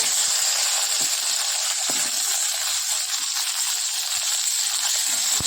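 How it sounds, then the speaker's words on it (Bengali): Chunks of elephant foot yam and potato frying in hot oil, a continuous dense sizzle at steady loudness with faint occasional stirring knocks. "হালকা করে একটু তেলে ভেজে নেব।"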